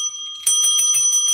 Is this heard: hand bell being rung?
yes